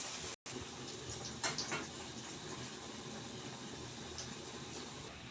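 Bread and potato snacks dropped into hot oil for deep frying give a steady, hissing bubble that holds at an even level throughout, with a short gap near the start and a brief burst of crackle partway in.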